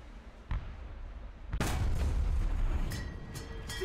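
Tank cannons boom in War Thunder battle gameplay: a sharp shot, then a louder heavy blast followed by a rumbling tail and a few fainter distant reports, with no talk.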